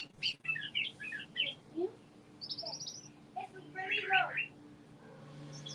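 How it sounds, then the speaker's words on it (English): Small birds perched in a tree chirp and tweet in short bursts, near and moderately loud over a quiet background. "Them birds always hang out on that tree."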